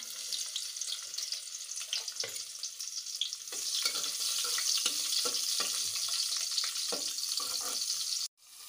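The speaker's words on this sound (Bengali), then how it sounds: "এখন কচু পাতার সাথে রান্না করব। পেঁয়াজ দিয়ে দিলাম" Chopped onion goes into a hot pan for a taro-leaf dish with dried fish, giving a steady broadband sizzle that grows louder midway, with occasional light clinks before it cuts off abruptly near the end.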